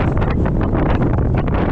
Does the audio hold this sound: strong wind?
yes